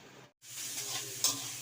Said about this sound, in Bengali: ভেজিটেবলস গুলো ভাজা শুরু করে দিয়েছে